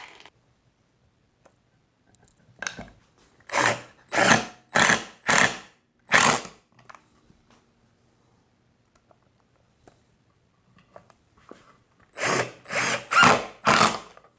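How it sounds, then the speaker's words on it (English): A drill drives screws into pocket holes cut with a Milescraft Jig 100, heard as two separate runs of short, loud, pulsing bursts: about five spurts, a long quiet gap, then four more bursts close by. "Let's see how they drive. And I'm going to use the same screw for both"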